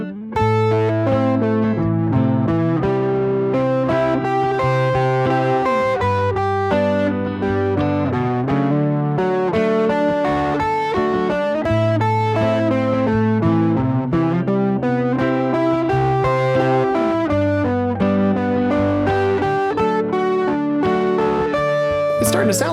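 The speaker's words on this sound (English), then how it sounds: "we want to start from the top and come down and start connecting and mixing and matching all of the different arpeggios while still only targeting those chord tones" An electric guitar run through distortion and effects plays a steady stream of connected arpeggios that descend from high to low and link chord tones, loud and alone with no talk.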